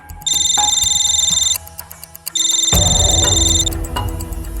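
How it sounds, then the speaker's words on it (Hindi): A telephone rings in two bright electronic bursts separated by a short gap, loud and close, followed by a low rumbling background. "सर फॉरेंसिक से मिस्टर राव का फोन था"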